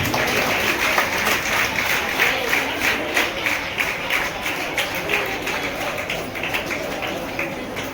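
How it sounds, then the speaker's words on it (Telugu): Students applaud together at a college event, a dense continuous patter of many clapping hands that stays fairly loud and even throughout. "అందరూ మీ కరతాళ ధ్వనుల మధ్య స్టూడెంట్స్ బిగ్ క్లాప్స్."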